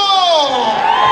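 A live norteño concert crowd in Gómez Farías, Tamaulipas lets out a loud, sustained shout, voices rising and falling together in a long cheer close by.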